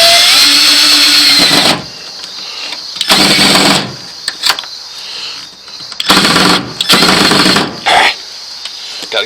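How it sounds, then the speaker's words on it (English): A power drill drives a self-drilling deck screw in several loud bursts of whirring and grinding, each lasting about a second or more, separated by short pauses, up close and with no talk. "This time, I'm going to use a self-drilling deck screw and see if that makes any difference."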